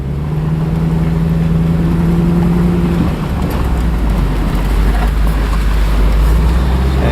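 A rough engine with a makeshift clamped-together exhaust idles steadily and loudly close by, a low rumbling drone with a faint tonal hum that fades partway through.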